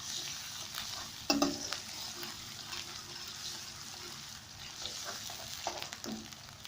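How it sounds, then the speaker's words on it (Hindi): Ginger garlic paste sizzling and frying in a pan as a spoon stirs it, with a steady hiss and occasional scraping clinks; close and fairly quiet, without talking. "इसको अच्छे से फ्राई करते हैं।"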